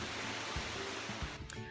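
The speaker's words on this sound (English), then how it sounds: "If you hear the water crashing in the back, I'm sorry." Water crashes and rushes steadily at an outdoor spot, a broad wash of noise that fills the background from start to finish, with a few faint low thumps and no voice.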